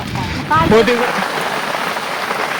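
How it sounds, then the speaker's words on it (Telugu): Steady rain patters down on a mango orchard campsite with a soft continuous hiss, and a brief voice breaks in near the start. "చూడ ఎక్కడా వర్షం పడుతుంది"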